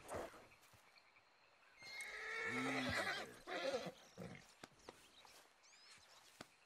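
A saddled horse in the video game Red Dead Redemption 2 gives a loud drawn-out whinny, followed by a snort, a few hoof clops and scattered rustling, with quiet gaps between.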